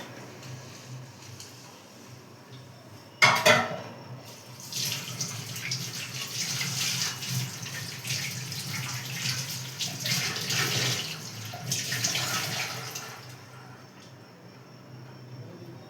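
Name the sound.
washing dishes under running tap water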